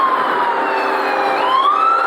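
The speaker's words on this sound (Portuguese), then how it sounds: "Sirene de polícia." Police siren wailing nearby, its rising and falling tone sweeping loud and clear over a rumble of traffic in an urban street.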